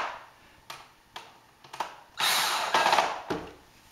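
A power drill drives screws into a retractable frame in several short whirring bursts, separated by brief pauses and light mechanical clicks, close and moderately loud with no talk.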